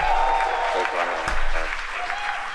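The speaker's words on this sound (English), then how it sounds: "Please clap." Applause and cheering from a crowd during a SpaceX Falcon launch broadcast for the HISPASAT Amazonas Nexus mission, steady across the clip and heard beneath a commentator's voice.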